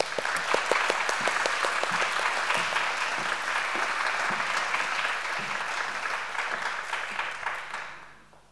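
An audience at a college symposium applauds to welcome a keynote speaker, dense sustained clapping from a crowd in a hall that fades away toward the end.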